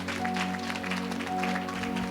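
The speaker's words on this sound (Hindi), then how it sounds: "ताली बजाएं यीशु के लिए" A church congregation applauds for Jesus during a worship service, a dense steady clatter of many hands under a faint musical drone, continuing evenly without a break.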